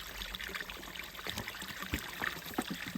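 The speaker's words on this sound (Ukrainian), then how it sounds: "Вода тече літом, зимою." A steady, gentle trickle of spring water flowing, close and continuous, with small splashes and bubbling throughout.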